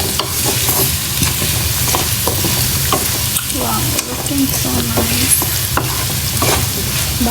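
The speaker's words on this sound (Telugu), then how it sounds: "బాగా మిక్స్ చేసుకున్నాం" Potatoes, onions and turmeric stirred in a hot pan: loud, close sizzling with regular scraping and clacking strokes of the spoon throughout.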